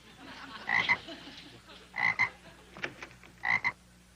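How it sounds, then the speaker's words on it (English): Two frogs in a cement pond, one croaking in three separate paired bursts spaced a second or so apart, loud and close against a quiet background. "I found these 2 frogs swimming in the cement pond"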